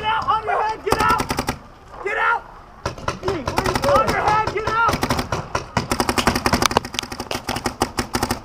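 Paintball guns fire rapid bursts of sharp, close cracks at an outdoor paintball park, with dense rattling volleys and short pauses between them; people shout briefly between the shots.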